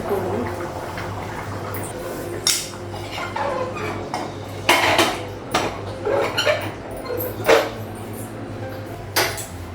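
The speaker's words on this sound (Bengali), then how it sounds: "তরকারিটা নামাবো আর তাওয়াটা বসাবো।" A pot of egg curry is lifted off and an iron tawa griddle is set on the stove, several sharp metallic clanks and knocks ringing out among quieter kitchen clatter.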